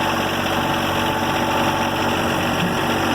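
A John Deere 1025R compact tractor's engine runs steadily in gear while pushing a log up a hillside, a continuous close mechanical drone with constant vibration and no talk over it.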